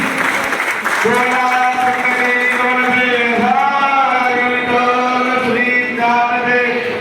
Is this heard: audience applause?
yes